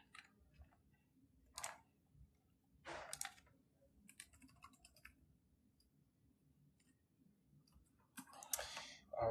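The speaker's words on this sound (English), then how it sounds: "Just typing in your information." Scattered bursts of computer keyboard typing during a live astrology chat stream, irregular clusters of clicks at close range with quiet gaps between, over a low steady background hum.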